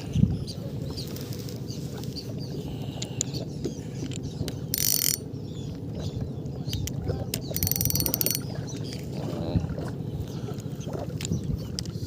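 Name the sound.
fishing rod reel being tested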